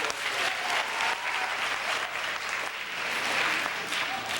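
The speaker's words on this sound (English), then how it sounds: "let's give him a round of applause." At a school assembly, the crowd applauds the new principal with a thick, continuous patter of many hands, steady and fairly loud with slight swells as it goes on.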